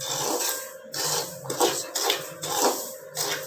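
Semolina for kesari is stirred as it dry-roasts in a pan, a metal spoon scraping and rasping against the pan in repeated strokes with short pauses, close by and moderately loud.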